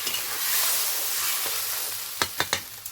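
Water hits a hot pan of tomatoes, raising a loud, hissing sizzle that gradually settles, followed by a few sharp clinks of stirring utensils.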